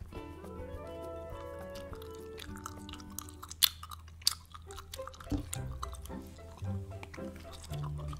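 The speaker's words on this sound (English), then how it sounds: "I'm gonna try biting it now and then chewing it." Biting into and chewing a waxy, nearly tasteless gum-like novelty candy up close, with soft wet mastication and a couple of sharper crunchy bites, continuous and quiet.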